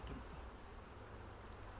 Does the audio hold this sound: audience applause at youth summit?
no